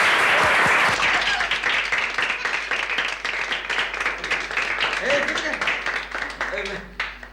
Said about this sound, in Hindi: तालियां बजाइए ना